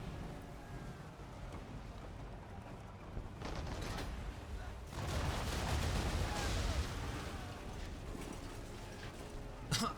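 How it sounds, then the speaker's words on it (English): Ship cannons fire a broadside in Assassin's Creed III, a rumbling series of heavy booms that swells in the middle and rolls on as a dense, thundering barrage before tailing off. "I destroyed 3 ships with 1 broadside"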